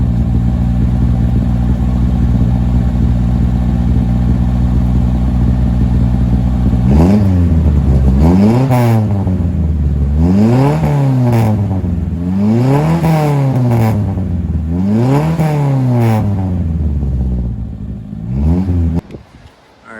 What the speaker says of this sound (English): I'm gonna give you guys a little rev so you can hear that single cam power.